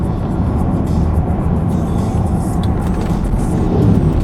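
A Land Rover Discovery 5 driving along a sunny Shropshire country lane, heard from inside as a steady, loud low rumble of engine and road noise with no distinct gear changes.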